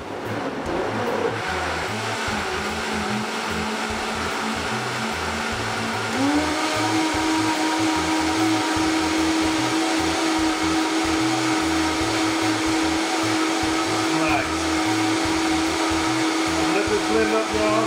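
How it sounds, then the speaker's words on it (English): A Vitamix blender runs steadily on low variable speed, a loud continuous motor whir that shifts slightly in pitch partway through and holds without pause. "Throw the top on the Vitamix and get this going. Put on low variable, boom."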